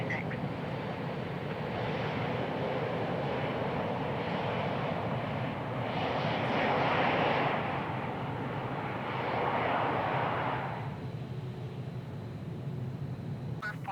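A small King Air twin turboprop in Microsoft Flight Simulator 2020 drones steadily at a large international airport, its broadband engine roar holding at moderate level and swelling twice as it passes.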